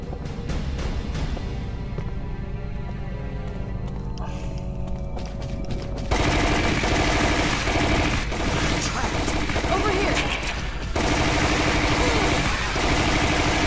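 Automatic machine gun fire in Resident Evil: The Umbrella Chronicles, loud sustained rapid bursts over game music and effects, growing denser and louder about halfway through.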